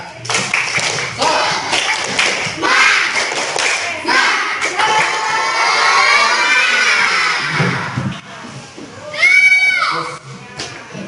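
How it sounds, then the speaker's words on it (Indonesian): Schoolchildren in an Indonesian classroom perform a rhythmic spirit clap, chanting along in unison between bursts of patterned hand claps, loud and close with lively group voices throughout. "ayo kita melakukan tepuk semangat"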